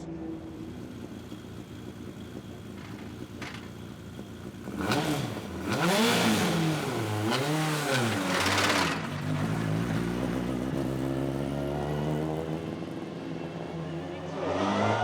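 A 1996 Honda Accord touring race car engine revs up on a track day circuit, loud and close, its pitch sweeping up and down through several gear changes before settling into a steady high drone.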